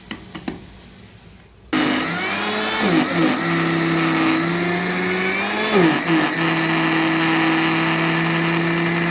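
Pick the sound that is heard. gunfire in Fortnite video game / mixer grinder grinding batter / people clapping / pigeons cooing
mixer grinder grinding batter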